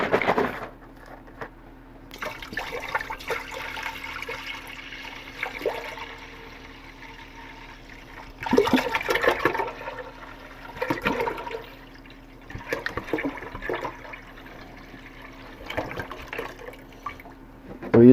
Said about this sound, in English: And we're going to put this in a pan.